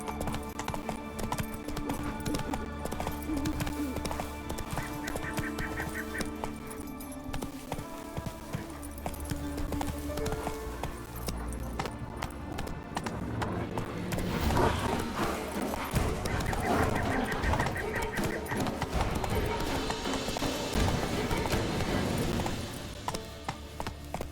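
Horse hooves clip-clop steadily at a gallop in The Witcher 3, loud and close, with an occasional whinny over a continuous game music and ambience bed.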